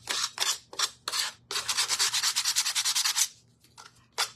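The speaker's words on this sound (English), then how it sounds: "I'm just sanding the edges down just a little bit." Rhythmic rasping strokes of sandpaper on wooden shelf edges, a few short rubs and then a fast steady run of scrubbing, close and fairly loud.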